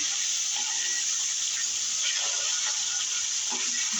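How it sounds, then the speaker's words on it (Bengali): Sarputi fish (olive barb) frying in hot oil, giving a steady, loud, continuous sizzle with faint crackles throughout and no talking. "দেখেন বাকি মাছগুলো আমি ভেজে নিচ্ছি"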